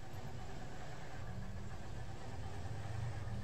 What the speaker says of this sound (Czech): to slyším ten motor